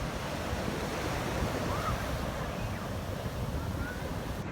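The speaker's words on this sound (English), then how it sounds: "Waves are crashing in, kids are on the beach and everything." Ocean waves crashing steadily on a Rio de Janeiro beach in Brazil, a continuous broad surf roar with some wind, no talking.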